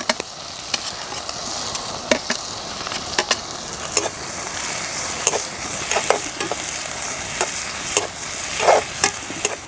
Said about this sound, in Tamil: அந்த வெங்காயத்தை அந்த எண்ணெயில் போட்டு நல்லா வதக்கிடலாம்.